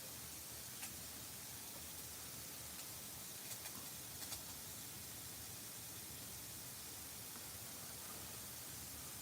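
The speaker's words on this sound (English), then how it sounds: "You guys get to hear my fucking sprinklers for a while." Lawn sprinklers run outside as a steady, even hiss of spraying water that fills the whole stretch, with a few faint bird chirps in the background and no talking.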